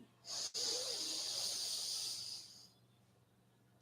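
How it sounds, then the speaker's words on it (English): One slow, deep inhale during a guided breathing exercise: a close, airy hiss drawn steadily through for about two seconds before it tapers off into near silence, with no other sound around it. "breathing in,"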